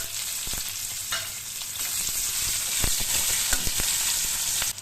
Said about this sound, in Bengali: ফোড়নটা ভালো করে ভাজা হয়ে গেলে এবার এতে পেঁয়াজটা দিয়ে দেবো